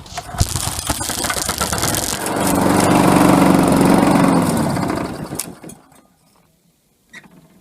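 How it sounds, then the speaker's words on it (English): A Briggs & Stratton lawn mower engine with a fuel fault catches after a few rattling pulls, roars loudly for a few seconds, then sputters and dies into near silence. "You press the bulb 3 times. It starts up, no bother."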